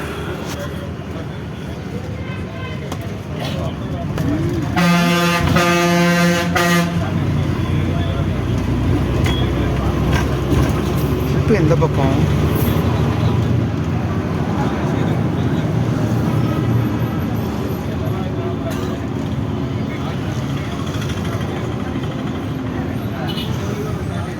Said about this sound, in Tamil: பஸ்ஸு போயிட்டுருக்கு பாருங்கள்